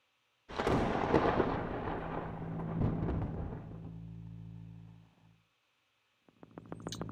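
Lightning and thunder effect in the Songbringer game: a sudden loud crack rolls into a long rumbling boom that fades out over several seconds, then a quieter rhythmic sequence of tones starts after a pause.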